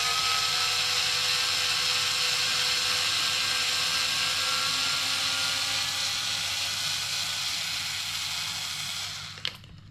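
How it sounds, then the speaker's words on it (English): A power tool whines steadily and closely while removing screws from the bumper of an Arrma Kraton 4S V2.5 RC car, with a continuous high-pitched drone that cuts off just before the end. "I'm also going to remove these screws here"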